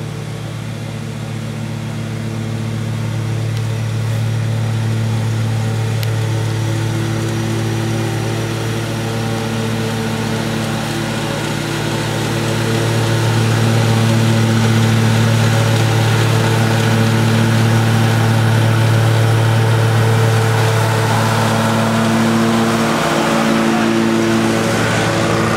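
A Toro Turbo Force lawn mower runs steadily with its cutting deck set to the C height, giving a loud, continuous droning hum that swells slightly partway through and carries no talk.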